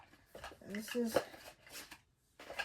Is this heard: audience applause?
no